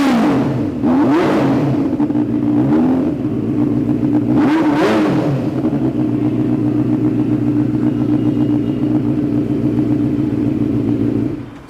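A Benelli 600cc motorcycle engine fires up and revs hard in a few loud blips before settling into a steady, rumbling idle close by.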